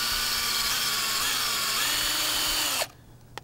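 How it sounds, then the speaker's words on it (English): A power drill bores a hole for a homemade clothesline, its steady high whine running loud and close for almost three seconds before cutting off into quiet. "Just drill out the hole."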